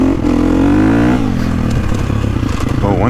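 A bone-stock 2022 Gas Gas MC350 dirt bike, still breaking in on Maxxis tires, runs its engine loud and close, a steady revving drone that drops in pitch around the one-second mark, then settles into a rougher, clattering idle.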